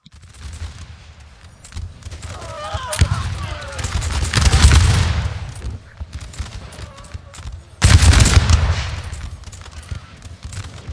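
Crackling musket volleys from a Napoleonic line battle at Borodino between French and Russian forces, with rolling fusillades swelling and fading, sharp booming bursts, and a commentator talking over the din.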